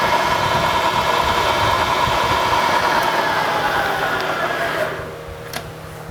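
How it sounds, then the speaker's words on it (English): A small countersink cutter spins in a milling machine, touching a hole in a mini pallet toe clamp: a steady, close mechanical whir and hum that stays even for a few seconds, then drops off quickly as the cut ends. "Next, I'm going to touch it real quick with a little countersink."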